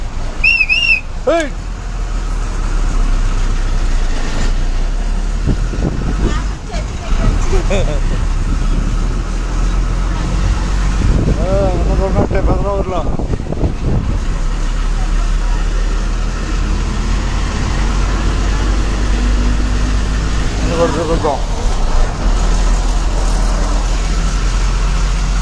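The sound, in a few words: Tenali–Kothurulanka bus driving on the road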